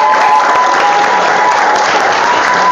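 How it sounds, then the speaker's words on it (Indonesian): Dense, steady applause from a large audience at a lecture on communist history in Indonesia, loud and continuous throughout with no gaps. "tepuk tangan"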